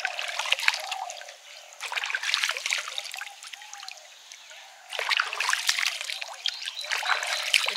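Freshly dug potatoes, one whole and one cut by a spade, rinsed in water, with running, trickling water splashing in irregular bursts close by, no talk.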